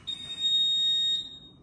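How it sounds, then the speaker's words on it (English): A workout interval timer sounds during a 30-minute HIIT session: a single sustained high-pitched beep lasting about a second, clear above faint room noise. "Got that lovely beep going."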